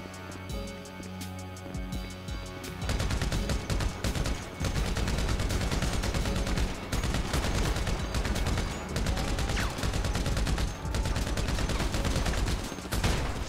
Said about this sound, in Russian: Тяжелый пулемет.